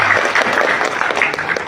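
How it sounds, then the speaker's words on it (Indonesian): A crowd claps steadily and fairly loudly for a couple of seconds, a dense wash of applause from many hands. "Tepuk tangan buat teman-teman ya."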